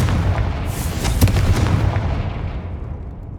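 A Confringo blasting spell explodes in the Hogwarts Legacy video game, a loud booming burst with a sharp crack near the middle that rolls out and slowly fades over a few seconds.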